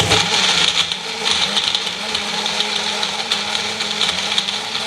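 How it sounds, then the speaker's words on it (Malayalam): A kitchen blender whirs steadily while mixing a chilled milk milkshake with banana and dry fruits, a loud, continuous buzzing drone with slight fluctuations that cuts off abruptly at the end. "ഒരു ബ്ലെൻഡർ വെച്ച് ഇത് മിക്സ് ചെയ്യും"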